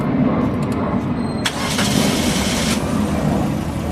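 A Suzuki Ertiga engine cranks and catches after a coolant change, then runs with a steady low rumble, close and loud throughout.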